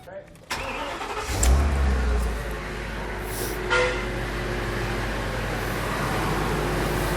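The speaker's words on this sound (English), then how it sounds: "It fired right up, no drag or anything like that." A large car engine cranks and catches after a jump start from a NOCO Boost Pro, a short burst of starter noise that settles into a steady, even idle close by.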